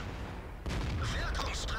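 A tank cannon fires in World of Tanks, one sudden heavy blast that rolls on as a rumbling tail, over a steady game background, with a voice commenting faintly.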